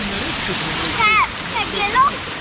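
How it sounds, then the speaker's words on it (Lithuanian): Spring water rushes steadily in a constant broadband wash at the Tegalalang rice terraces in Bali, close and fairly loud, with faint high voices calling briefly over it. "Čia va šaltinio vanduo bėga"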